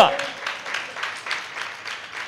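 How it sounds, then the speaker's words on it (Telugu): An audience at a church training gathering claps together in a steady, moderately loud patter, with quiet talk underneath. "క్లాప్స్ కొట్టు."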